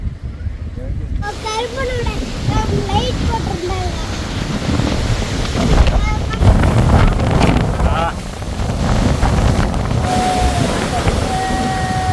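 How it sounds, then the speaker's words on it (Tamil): Strong wind buffets the microphone on a steep rocky hillside trail up Rangamalai, a loud continuous rumble and roar that swells and gusts throughout, with people talking over it. "பயங்கரமான காற்று"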